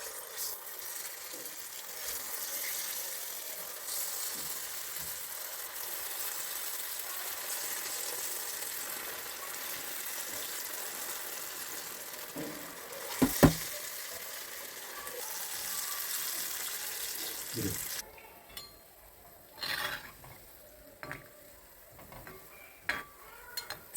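Jackfruit bondas (mulka) deep-frying in hot oil on a low flame, a steady close bubbling sizzle with brief clatters of a utensil partway through and a quieter, sparser crackle near the end.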